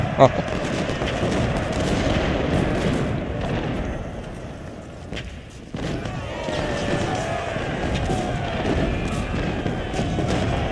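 Artillery and musket fire from Ultimate General: Civil War, a battle near the town of Suffolk: a dense, continuous roar of overlapping gunshots and booming cannon, steady throughout with a brief lull midway.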